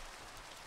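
Rain in the Minecraft video game, a steady, even hiss of falling rain that stays constant for a brief moment with no voices over it.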